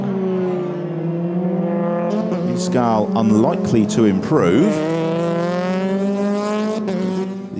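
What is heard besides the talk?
Euroformula race car accelerating over the finish line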